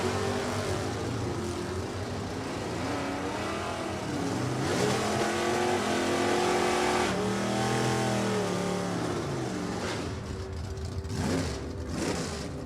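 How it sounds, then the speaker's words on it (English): A '68 Mustang with a Ford 428 and a '69 ragtop Camaro race on a drag strip, their engines roaring and revving hard in rising sweeps that swell loud, then fade as the cars pull away. "Rich Prizer comes up right now. 68 Mustang, Ford-powered 428, taking on Jim Roberts and his 69 Ragtop Camaro."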